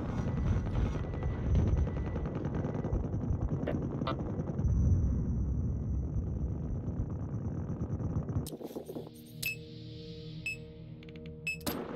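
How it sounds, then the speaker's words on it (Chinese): A helicopter lifts off in the Battlefield Heroes video game with a dense, rumbling rotor roar that gives way abruptly to thinner, tonal game sounds and sharp effects. "他们直升机升空了。"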